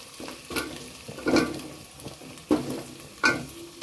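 Potatoes and carrots added to onions and whole spices frying in refined oil, soft sizzling under a few distinct stirring scrapes and knocks against the pot, close and quiet.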